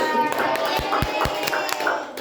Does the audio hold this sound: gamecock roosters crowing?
no